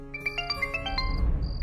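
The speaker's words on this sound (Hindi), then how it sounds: "तभी अचानक ही आहान का मोबाइल बज उठा।" A mobile phone rings in a narrated Hindi drama, a bright chiming melody of quick repeating notes playing over a soft background hum, with no one speaking.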